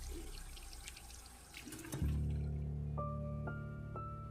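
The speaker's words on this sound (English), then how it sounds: "There was a familiar squeak, the sound of the faucet turning." A household faucet squeaks as it turns, then water gushes steadily into a sink, loud and close, with a few brief higher tones near the end.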